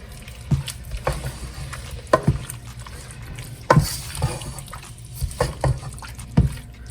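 Beef chunks tossed in a bowl with seasoning and grapeseed oil for spicy pepper beef, giving a series of soft, wet squishing and slapping bursts at an uneven rhythm, close and moderately loud, with no talking.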